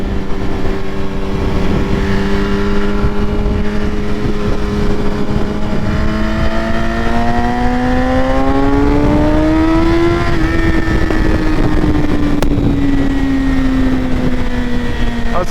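A BMW S1000RR sport motorcycle on a motorway gives a loud, steady engine drone that climbs smoothly in pitch for about ten seconds as it accelerates, then eases slightly lower, with constant wind rush throughout.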